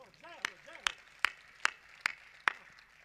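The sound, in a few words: audience applause at a poetry recital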